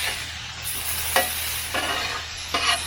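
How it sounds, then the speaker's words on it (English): Chicken pieces fry in a pan, a constant bright sizzle with three or four scraping strokes as they are stirred around, close and without speech. "Now we're going to see how the chicken's doing."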